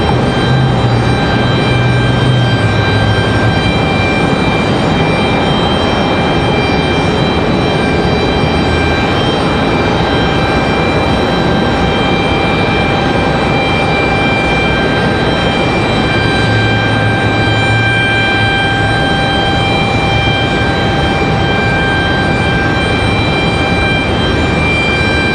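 Jet engines of a JetBlue airliner run at Raleigh Durham airport with a loud, steady roar and sustained whine that hold evenly throughout, without talk.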